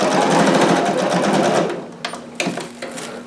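A sewing machine runs a seam at a 5/8 allowance on a harem jumpsuit, a loud close whir for about a second and a half, then short back-and-forth bursts of back stitching.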